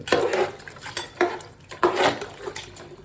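A spoon scrapes and clanks against a pot of mutton biryani after water is added, in several loud bursts of stirring separated by short pauses.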